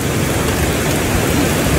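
Steady rain pouring down outdoors during a car wash, a dense continuous hiss close by with no pauses.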